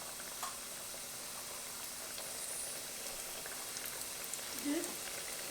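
Traditional Eid pastry cooks on a stovetop, giving off a faint, steady bubbling sizzle that stays low and even throughout, with no clear talk over it.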